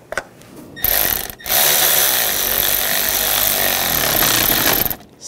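A power tool drives down the fuel injector bolts on a 2004-2009 Toyota Prius in two loud, buzzing bursts, a short one and then a longer one, with brief pauses between them.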